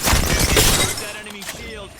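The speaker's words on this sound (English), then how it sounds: "Broke that enemy shield." An enemy shield shatters in a video game shooter, a loud dense crash with debris and gunfire-like crackle that decays within a second, followed by quieter game effects and a voice speaking.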